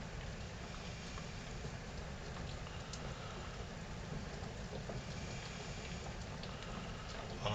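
Rain falls steadily on a rainy January day, a dense, even hiss and patter close by with a faint engine-like hum underneath, unchanging throughout.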